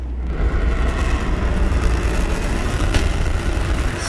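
Three Raptor engines of a SpaceX Starship fire in a landing burn over the Indian Ocean on a stream, heard as a steady, low rumbling roar that holds without breaks, loud and continuous, with no talking over it.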